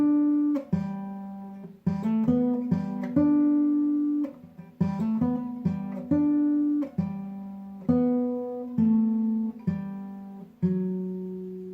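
A clean, sparse guitar solo, with single plucked notes and short descending runs that ring and decay in a steady rhythm, played alone with no voices.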